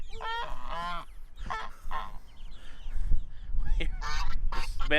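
Close farm geese alongside a duck give loud honking calls in uneven bursts, with some quacks and shuffling movement and handling noise in between.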